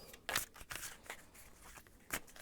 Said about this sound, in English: I'm gonna shuffle a little bit more.